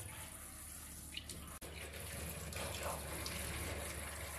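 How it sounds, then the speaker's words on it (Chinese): Running water washing a rescued dog's tail during a bath, a steady close splash and gush of tap water that grows a little fuller toward the end. "洗洗你的尾巴，不要怕啊"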